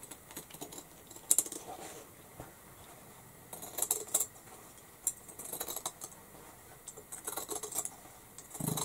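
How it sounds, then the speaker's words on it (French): Scissors cutting fabric along a marked curve, giving soft, faint snipping bursts spaced irregularly across a quiet room. "je vais déjà découper à ras, vous voyez, de mon trait en suivant bien mon arrondi"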